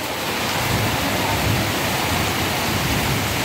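Heavy Konkan monsoon rain pours down in a dense, even hiss as overflowing water rushes nearby, steady and loud throughout with no voices.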